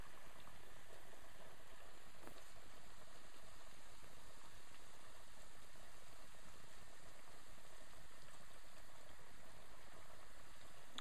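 Carnival beignets frying in very hot oil make a constant, dense bubbling hiss with fine crackles, even and unbroken at moderate loudness, with no voices over it.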